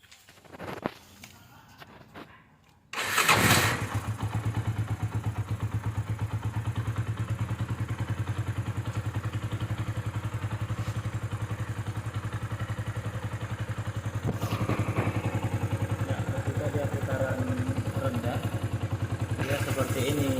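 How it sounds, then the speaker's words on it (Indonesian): A Suzuki Scorpio motorcycle, fitted with a radiator cooler, starts after a few quiet seconds of handling noises, then idles steadily and loudly close by, its throttle rising slightly near the end. "Baik teman, kita mau tes dulu, kita bunyikan mesin"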